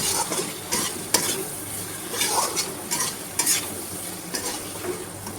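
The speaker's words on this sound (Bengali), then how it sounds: "এবার কেটে রাখা আলুগুলো দিয়ে ভালো করে কষবো।" Cut potatoes fry with spice masala in oil for a rohu fish curry, stirred vigorously. A steady sizzle carries repeated close scrapes and light metal clinks from the spatula against the pan.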